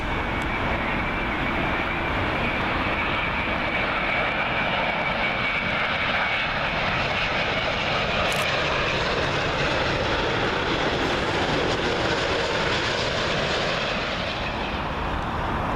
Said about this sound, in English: British Airways 787 Dreamliner, and it has arrived from Islamabad